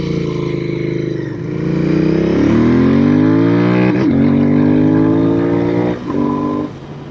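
Royal Enfield Continental GT 650 twin-cylinder motorcycle being ridden on the road, its exhaust note loud and steady, rising through the revs with a brief dip around a gear change, then settling near the end.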